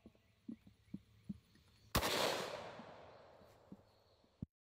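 A single sharp blast from a Smith & Wesson 686 .357 Magnum revolver with a 6.5 inch barrel firing 125 grain rounds, followed by a long fading ring, with a few faint knocks before it; quiet overall.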